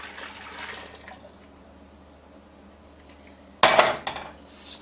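Scalded milk is poured into a sugar mixture in a pan, starting with faint kitchen clinks and ending in a sudden, close, splashing pour that tapers off after a second or so.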